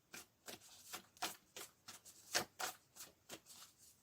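Oracle cards are drawn one by one from a deck, giving a quiet series of about a dozen crisp papery flicks and slides at a fairly even rhythm, close and soft.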